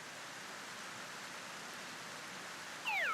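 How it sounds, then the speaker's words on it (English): Steady rain in the farming video game Harvest Moon: Tale of Two Towns, a constant even hiss of falling water with no music, ending with a brief bright chirping tone. "there is no music when it's raining, just the rain"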